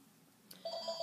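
A telephone rings faintly in a quiet room, a short electronic ringing tone that begins about halfway through and repeats in soft pulses, with no voices over it.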